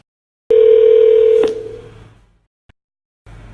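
A telephone dial tone or keypad tone plays as a single loud, steady electronic beep for about a second, then fades, followed by a faint click and the start of a line hum.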